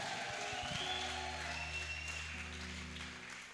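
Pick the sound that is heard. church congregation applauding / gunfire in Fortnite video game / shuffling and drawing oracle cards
church congregation applauding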